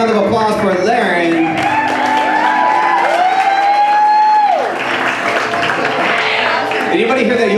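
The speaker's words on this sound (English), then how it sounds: "give a big round of applause for Lerin" Wedding guests at a reception burst into loud, steady applause mixed with cheers and a long drawn-out whoop, the crowd noise filling the room throughout.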